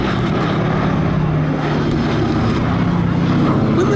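The B-17 Flying Fortress Sally B drones overhead at Duxford, a steady, loud multi-engine propeller hum that holds level throughout with a narrator talking over it.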